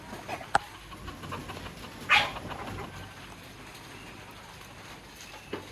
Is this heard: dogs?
yes